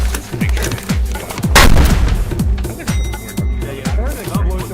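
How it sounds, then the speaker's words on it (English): A video game explosion, a booming broadband burst partway through, sits amid a steady run of repeated low thuds and gunfire-like bangs, with a voice occasionally talking over the game sounds. "I heard an explosion"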